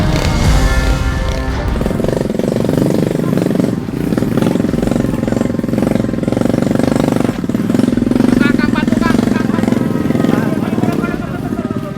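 A motorcycle carrying riders struggles over a rough, rocky dirt road, its engine hammering and rattling loudly and continuously as it labours against the heavy terrain, with voices now and then.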